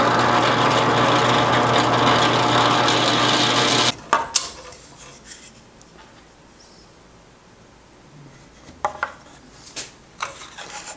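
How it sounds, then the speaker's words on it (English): A drill press with a 5/32-inch bit bores holes, giving about four seconds of steady, close whirring and grinding that stops abruptly, followed by quiet with a few faint clicks and handling knocks. "So that's the size drill bit I have in my drill press. And we'll just drill a couple 5/32 holes."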